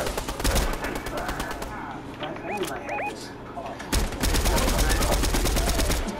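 Video game gunfire from a squad match, with rapid automatic bursts near the start, a quieter middle carrying a few chirpy bird-like game sounds, then another heavy rattling stream of shots at the end.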